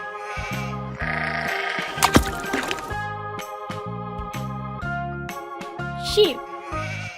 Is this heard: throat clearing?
no